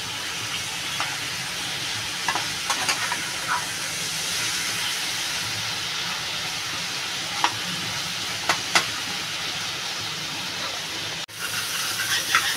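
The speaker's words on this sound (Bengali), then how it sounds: "আমি একটু লাল লাল করে ভেজে নেব।" Small prawns fry in oil until reddish, with a continuous close sizzle and hiss throughout, occasional sharp stirring clicks, and a brief dip just before the end; nobody speaks.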